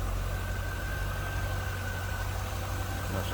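A 2000 Chevrolet Corvette convertible's 5.7 liter V8 idling with the hood open, a steady low rumble and even mechanical hum, close and unbroken, with no voices over it.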